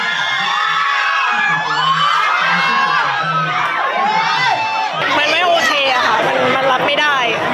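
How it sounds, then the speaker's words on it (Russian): A crowd of party supporters in Thailand reacting to a court verdict dissolving their party, with loud overlapping shouting, yelling and agitated chatter filling the whole stretch close by. "Вердикт суда они встречают криками ярости и не могут сдержать слез."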